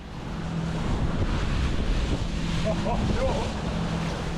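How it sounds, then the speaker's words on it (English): Wind gusts across the open ocean from a fishing boat, a continuous loud roar and buffeting on the microphone with wave wash underneath. "It's a little bit windier out here than where it was where we're collecting the bait."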